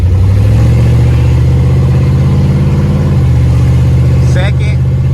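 A Camaro SS bought at auction drones loudly and steadily from close by as it drives and shifts through gears, its engine note sliding between steps, with someone talking over it.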